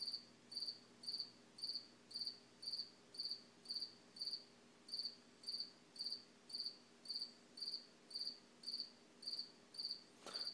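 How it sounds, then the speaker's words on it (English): A cricket chirps in a steady rhythm, regular trilling pulses about once a second, fairly loud against a quiet night background with a faint hum. "These fucking crickets will not let me sleep."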